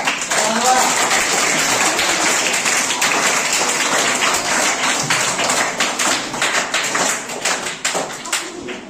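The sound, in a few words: applause for a correct quiz answer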